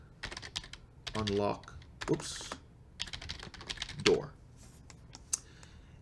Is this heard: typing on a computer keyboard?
yes